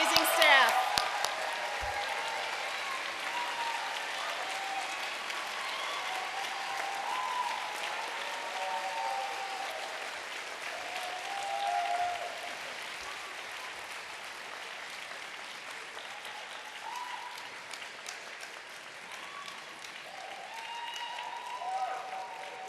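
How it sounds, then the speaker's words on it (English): Audience at the Ann Arbor Community High School 2019 commencement applauds the teaching staff. The sustained clapping fills a large hall and swells and eases over twenty seconds, with scattered cheers and voices mixed in. "they just burst into applause because we are so thankful for all of our amazing teaching staff"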